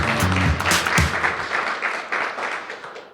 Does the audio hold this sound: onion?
no